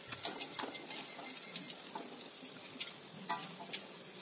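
Faint oil sizzle from catfish frying, with scattered light pops and crackles, a quiet continuous frying hiss and no voices.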